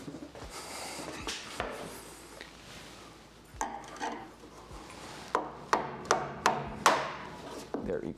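A hammer beats on a large screwdriver wedged against a damaged car frame rail to pop it out, giving a series of sharp, close metallic knocks that grow louder and more regular toward the end, with no talk.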